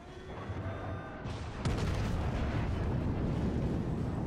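Ship guns in a naval combat video game fire in a single loud broadside, a sharp boom followed by a sustained rumbling roar over continuous low background noise.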